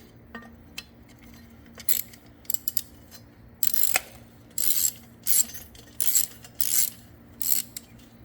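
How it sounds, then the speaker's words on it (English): Bolts come off an exhaust heat shield on a pit bike using a 5 mm hex tool, heard as a run of close, sharp metallic ratcheting bursts and clinks in an irregular rhythm with short quiet gaps between them. "So I'm gonna get this little heat shield off of here."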